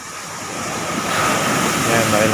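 Big ocean waves roll and wash near a small fishing boat, a broad, continuous surf rush with wind that swells slightly louder toward the end.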